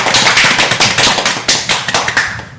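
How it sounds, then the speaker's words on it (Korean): A small group applauding indoors at a local community gathering, a steady patter of close hand claps that gradually thins out toward the end. "박수!"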